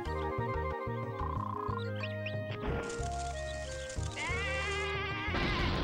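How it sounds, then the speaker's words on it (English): Sheep bleat in the RPG Maker 2 video game, a run of wavering game-audio cries stacked over a busy, continuous musical backing, with no talk. "Sheep."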